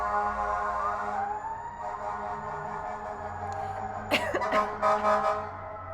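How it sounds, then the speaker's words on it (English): An emergency vehicle siren wails steadily with a rising tone over low traffic rumble on a New York City street, joined near the end by a few short coughs or bursts of noise. "We also get this all the time, the sirens."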